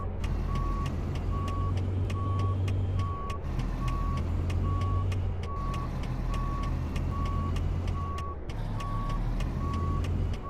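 Truck reversing in the American Truck Simulator game: evenly spaced, steady backup beeps over a continuous low diesel engine rumble, with a few brief pauses and no voices.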